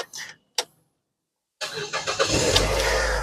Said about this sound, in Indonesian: Jadi coba kita nyalakan mobil.